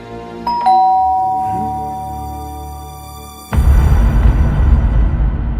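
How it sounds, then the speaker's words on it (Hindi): A doorbell chimes twice in a bright ding-dong that rings out and slowly decays, then a loud broadband wash of music or ambience abruptly takes over. "अब डोर बेल बजेगी"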